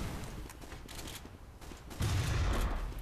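A sniper rifle shot rings out in Team Fortress 2, one loud low-heavy burst landing about two-thirds through amid steady game noise and sporadic smaller pops.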